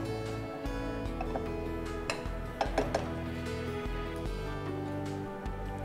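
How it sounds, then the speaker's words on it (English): Rasam powder is stirred into a tomato mixture in a pan, giving a run of scraping and clinking of a utensil against the pan with a few sharper knocks, close and fairly quiet. "Again, stir it up well."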